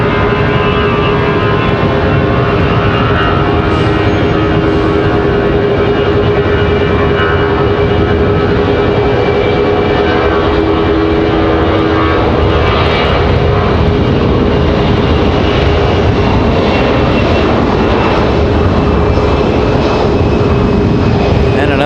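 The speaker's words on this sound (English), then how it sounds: "Delta ready to go. They're already lining up on the runway." Delta airliner lining up on the runway at Raleigh-Durham International Airport, a loud continuous jet engine roar heard from nearby, with someone talking over it.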